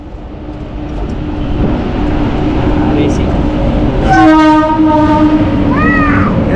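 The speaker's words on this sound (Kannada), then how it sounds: "ವೀಕ್ಷಕರ ಟ್ರೈನ್ ಬಂದಿದೆ," A passenger train pulls into a station on the Bangalore to Mantralaya line, a loud rumble of wheels building throughout, then a long, blaring horn blast near the end followed by shorter horn calls.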